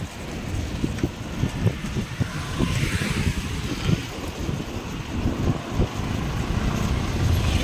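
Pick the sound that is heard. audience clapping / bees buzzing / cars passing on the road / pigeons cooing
cars passing on the road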